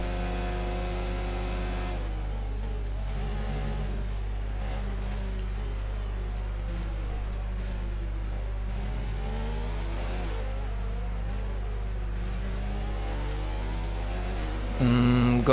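A Ferrari Formula 1 car's engine in F1 2019 sounds as a steady droning hum with shifting tonal harmonics under a constant low rumble, moderately loud, with a brief louder burst at the close.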